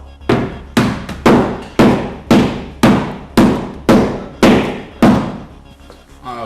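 Hammer smashing on a Volvo 940 2.3 turbo drift car build in a garage, nine loud, evenly spaced metallic blows ringing out one after another, then stopping.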